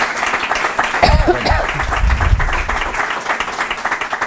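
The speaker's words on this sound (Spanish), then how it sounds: "Venga, otro aplauso." An audience at a colloquium on women and pro-life issues bursts into steady, loud applause, a dense wash of clapping with voices and a bit of chuckling mixed in, sustained for the whole stretch.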